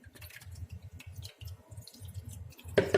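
Water drains from soaked tofu set in a strainer, falling in quick irregular drips and trickles close by, with a brief louder splash near the end.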